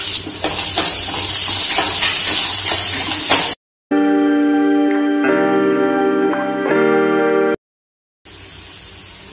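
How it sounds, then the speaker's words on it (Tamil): Onions frying in hot oil for an egg gravy give off a loud, bright sizzle broken by stirring scrapes, followed by short gaps and a section of steadier hissing. "இப்போ வெங்காயம் சேர்த்துக்கலாங்க."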